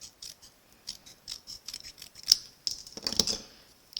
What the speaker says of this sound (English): I'm going to trim this off just a little bit.